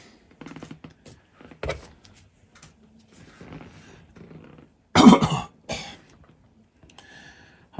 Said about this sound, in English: I apologize if you hear me coughing